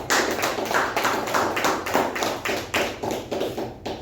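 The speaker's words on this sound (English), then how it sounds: "let us give the evaluator and the speaker a good round of applause" At a meeting, applause comes as a fairly sparse, rhythmic clapping in a room, with the claps repeating steadily and fading slightly toward the end.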